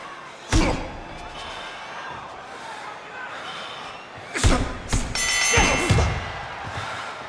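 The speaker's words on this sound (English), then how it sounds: "Body shot gets in." A body-shot punch in the boxing video game Fight Night Round 3, heard as sharp heavy thuds, one early and a pair of hard impacts later, over steady crowd noise and a commentator's voice.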